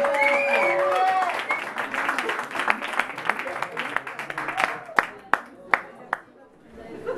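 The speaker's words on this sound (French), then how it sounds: "on est content qu'il y ait 5 jurys, on peut les applaudir." An audience applauds the jury at a song qualifying evening in Le Mans, clapping building under continuous talk and crowd chatter, then thinning into a few sharp, scattered claps before fading.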